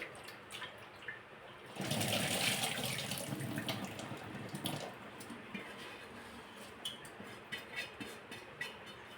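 Tap water runs into a vessel as ration rice is rinsed, a loud rushing burst lasting about three seconds followed by softer splashing and sloshing, with no voices.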